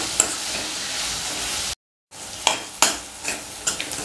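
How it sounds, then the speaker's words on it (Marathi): Onion and green chilli fry in a pan, a steady close sizzle broken by a short gap and punctuated by scraping stirring strokes. "आता आपल्याला हा जो कांदा आहे आणि मिरची ते अगदी मऊसूत शिजेपर्यंत आपण हे फ्राय करून घेणार आहोत।"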